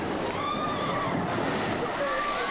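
A water ride at Busch Gardens in Florida sends up a broad, rushing splash of water, a sustained wash of spray and surf heard from a short distance, steady and fairly loud.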